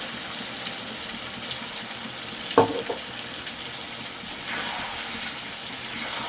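Chicken frying in oil with melon seed paste for a home-style chicken curry, a steady close sizzle and hiss with one sharp stir or scrape near the middle.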